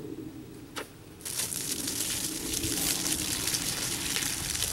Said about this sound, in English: now I'm going to try to flush the treated water through the system.